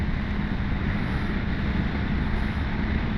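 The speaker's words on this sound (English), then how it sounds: "It's a bit windy and blustery on this top here" Steady wind on a hilltop roars and buffets against the microphone throughout, a constant low rumble with no other sounds.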